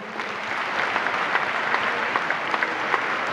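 Applause for cousin Mario D'Amico at a Guarnera Brothers gathering, a short burst of dense crowd clapping with a few distinct sharp claps, fairly loud and steady.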